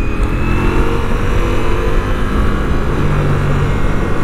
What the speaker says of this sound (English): drop her down a cog and wind her on, you can feel all that 170 brake horsepower